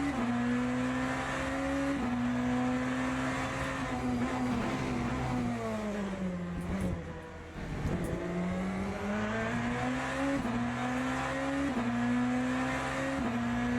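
BMW hypermotor racing car in Le Mans Ultimate, its engine note dropping through repeated downshifts under engine braking, then climbing again as it accelerates; loud, steady and close throughout.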